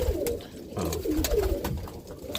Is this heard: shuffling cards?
no